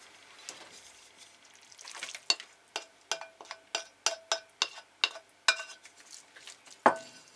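Minced meat mixed with onion and garlic in a bowl, a run of rhythmic wet squelching and slapping strokes, close and fairly quiet, with one sharper knock near the end.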